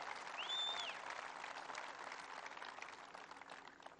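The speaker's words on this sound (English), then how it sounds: "Give him a big round of applause." A town hall crowd applauds for the mayor of Decorah, Iowa, a faint, steady wash of many hands clapping from a distance, sustained for several seconds.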